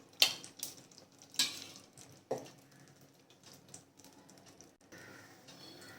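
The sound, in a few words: ghee heating and sizzling in pan for tempering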